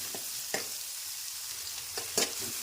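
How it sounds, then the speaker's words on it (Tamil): Chopped onions frying in oil for a pepper crab fry, giving a steady close sizzle with a few sharp stirring scrapes of a spatula against the pan. "வெங்காயம் நல்லா ப்ரௌன் கலரில் வதங்கணும், அது வரைக்கும் நல்லா வதக்கி விடுங்க"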